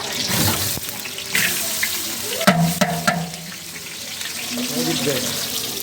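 Sliced onions hit hot oil in a home kitchen pot for biryani, giving a sharp, hissing sizzle up close that settles into a steady frying crackle, with a few clanks of a utensil.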